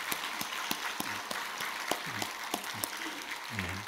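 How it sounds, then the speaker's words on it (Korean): A church congregation claps for the choir and accompanists, a steady ragged patter of many hands at moderate distance, with a few louder individual claps standing out and faint voices underneath. "격려의 박수 부탁합니다"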